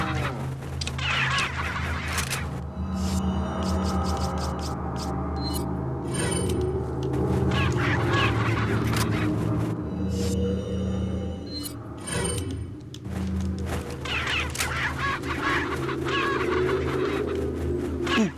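Chickens cluck in the Resident Evil 4 village, with intermittent fowl calls over a low rumbling game background that runs steadily throughout.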